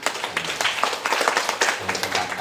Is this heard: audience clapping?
yes